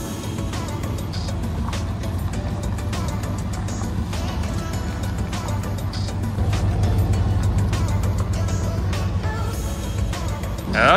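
A worn-out beater car with a flat tire creeps forward, its engine running as a steady low hum with scattered knocks and rattles throughout, with a slight rise toward the end.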